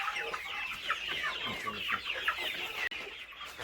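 Desi free-range chickens and roosters cluck close by on a poultry farm in quick, overlapping bursts that keep going without a break.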